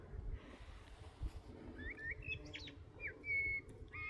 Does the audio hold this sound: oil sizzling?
no